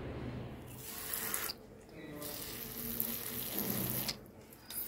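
Water is poured onto a freshly repotted Cymbidium Green Valley Emerald orchid, a steady close splashing trickle into the potting mix that pauses briefly twice before resuming.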